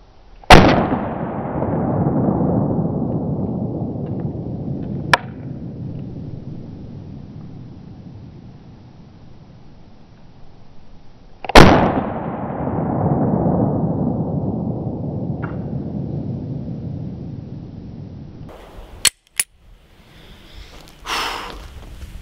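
Two loud, sharp pistol shots fired outdoors from a Glock-style handgun fitted with a Strike Industries G4 slide compensator, each followed by a long rumbling echo that decays over several seconds, with a few fainter clicks and knocks afterward.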